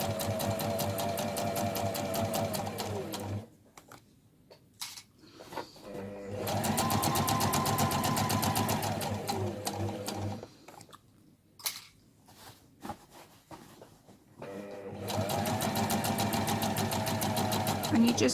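A sewing machine runs a zigzag stitch along fabric for a tilda doll in three loud, rapid, whirring bursts separated by short quiet pauses with faint handling noises.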